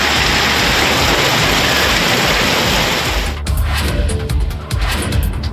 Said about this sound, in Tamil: மதுரை மாவட்டம் திருமங்கலம் மற்றும் சுற்றுவட்டார பகுதியில் ஒரு மணி நேரத்திற்கு மேலாக மழை பெய்தது.